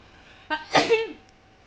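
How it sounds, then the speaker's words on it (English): A single close, sharp sneeze with a breathy lead-in and a brief voiced tail, alone in a quiet room. "I sneeze."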